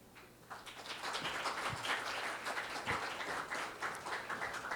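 Audience applause after a panel discussion at an HR conference fades in, then holds as a steady mid-level patter of many hands, somewhat distant and soft.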